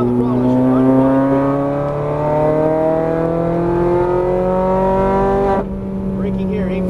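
Ferrari 430 Scuderia accelerating on a track, engine note climbing steadily through the revs in a loud sustained whine, then a brief dip and rise as it shifts, heard from inside the car.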